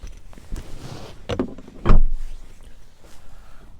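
The rear door of a 2021 Honda CR-V EX opens with a short mechanical clunk and rattle, followed by a louder solid thud, heard up close with no talking.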